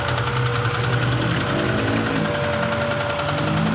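A repaired car engine runs at a steady idle after its leak and vibration were fixed, giving a continuous, even mechanical drone with a low hum throughout and no talking.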